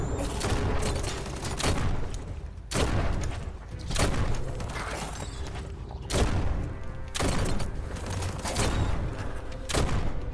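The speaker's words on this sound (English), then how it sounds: "Like right now. I was shooting the floor." Gunfire in the video game Biomutant, with bursts of shots in separate volleys and dull impacts, loud and close, and almost no talking.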